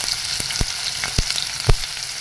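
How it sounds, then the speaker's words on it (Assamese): Chopped onion fries in hot oil for chicken curry, giving a constant crackling sizzle broken by several sharp knocks and scrapes of a spoon against the pan, close and alone. "ডাঙৰ পিঁয়াজ এটা কাটি"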